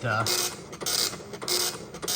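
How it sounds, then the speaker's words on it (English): A Commodore 64 printer with a dried-out ribbon runs a print job, giving a close, steady mechanical chatter with rhythmic bursts as the print head sweeps back and forth. "the printer works"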